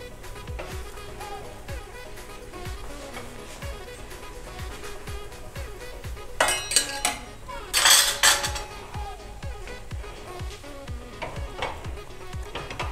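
A besan chilla cooks in a pan on high gas while the pan is shaken, with faint metallic scrapes, light clatter and a low sizzle, plus a couple of louder rattling bursts midway.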